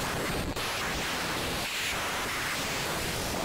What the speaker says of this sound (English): Glitchy ocean kind of sound,